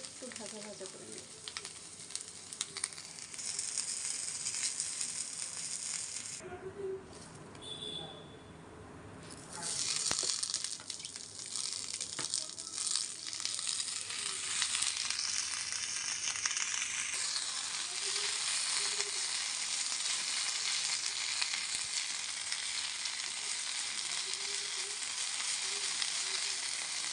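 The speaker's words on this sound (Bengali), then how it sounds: "এবার কাঁচামরিচ, রসুন আর পেঁয়াজ হালকা তেলে একটু ভাজা ভাজা করে নেব।" Green chilies, garlic and onion frying lightly in a little oil, giving a steady, close sizzle throughout with a brief quieter dip near the start.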